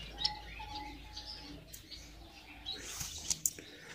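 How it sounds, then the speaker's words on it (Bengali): Bengalese finches in an indoor aviary give quiet, scattered high chirps and short tweets against a low room hum, with a few brighter calls near the end. "এরা খুব চঞ্চল প্রকৃতির পাখি, এদের ক্যামেরা ভিডিও করাটা খুব কঠিন হয়ে যায়।"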